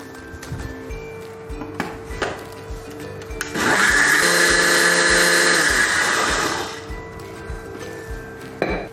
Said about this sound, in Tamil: இதை மிக்சியில் போட்டு ஒரு அடி அடிச்சுக்குவோம்